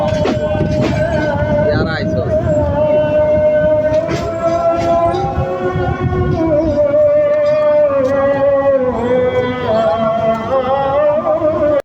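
Onboard the Narayanganj commuter train from Dhaka, a loud steady rumble of the carriage running on the rails, with a droning whine, rattles and occasional clacks, and someone speaking over it.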